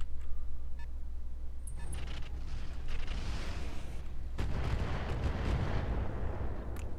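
Weapons fire and explosions in the mech combat video game Roguetech, with anti-missile fire shooting down incoming missiles: continuous rumbling booms, bursts and a heavy blast over a low drone, with no voices.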